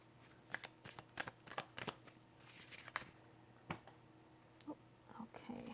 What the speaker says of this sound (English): Let's shuffle again and see what we get.